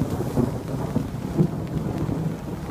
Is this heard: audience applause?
no